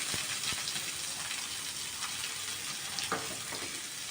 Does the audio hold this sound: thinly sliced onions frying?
yes